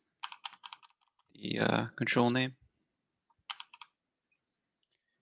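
Quick bursts of computer keyboard typing, close and crisp, come in short clusters before and after someone speaks briefly over a quiet background.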